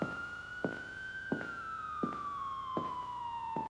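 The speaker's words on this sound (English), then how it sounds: "Police sirens echoed in the distance." A wailing police siren sweeps slowly up and down, sounding somewhat distant, with soft thuds recurring at regular intervals underneath.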